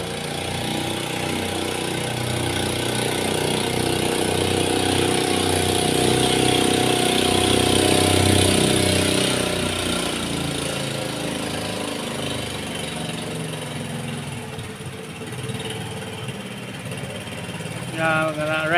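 A boat engine drones continuously at a steady mid pitch, near and fairly loud, running for the whole stretch on a trip to Pinipisakan Falls, with faint talk over it near the end.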